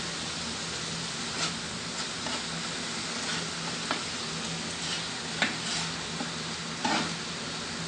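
Fried rice sizzling in sesame oil on a Blackstone griddle, a steady broad hiss with occasional soft spatula ticks and taps, close and continuous, no talking.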